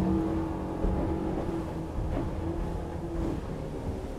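A motorboat with stainless propellers and Yamaha Helm Master EX controls accelerates at full throttle, its engine droning steadily and building in pitch, with rushing water noise around it and occasional surges in power.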